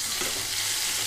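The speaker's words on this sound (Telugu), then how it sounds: "ఇవన్నీ వేసి 1-2 నిమిషాల పాటు కొంచెం ముందుగా వేయించుకుందాం।" Boiled broad beans frying in a tempering with green chillies and curry leaves over a low flame, making a steady, close sizzle with stirring.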